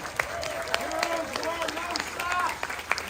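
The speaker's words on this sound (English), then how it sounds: "So big round of applause to Brandon." Audience applause at a city council recognition ceremony in Alhambra honouring a local hero, a dense burst of clapping from a moderate crowd with voices and cheering mixed through it for about three seconds.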